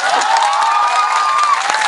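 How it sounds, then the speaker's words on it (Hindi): A crowd of chemistry students claps and cheers in a workshop hall, a steady wash of applause with a tonal ringing or whistle running through it. "केमिस्ट्री वाले ताली बजाओ"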